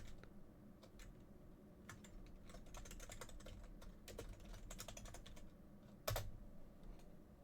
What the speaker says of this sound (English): Let me just type this in chat.